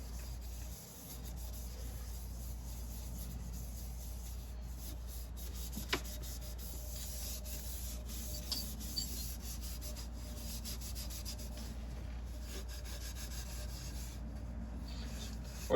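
A 4-stroke exhaust header gets scrubbed in circular motions to clean it, making a faint, steady, continuous rubbing and scraping with a few small knocks.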